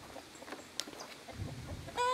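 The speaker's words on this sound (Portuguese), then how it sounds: "Tem um galo ali." A rooster on a farm with grain silos nearby, heard as a short bright call near the end, with scattered faint clucks and rustles before it.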